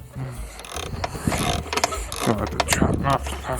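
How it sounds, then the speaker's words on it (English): A ratchet wrench loosens a trap nut on an MTD snowblower outdoors in the snow, giving a series of uneven clicking and clattering bursts, close and fairly loud, with someone speaking throughout. "Now use the ratchet again."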